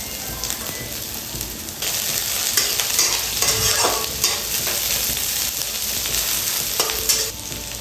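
Onion and green chilies sizzle and fry steadily in a hot pan, with stirring scrapes and bubbling crackle running throughout at close range, no talking.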